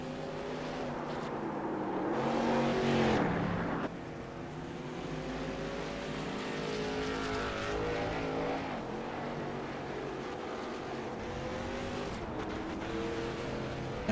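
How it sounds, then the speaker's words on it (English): A race car at Irwindale burns off its tires after a CRA stock car race, a steady engine drone with shifting harmonic revs and sustained tire noise that runs the whole time, fairly distant with crowd-ambient background. "watch the Merchant burn off the rest of his tires"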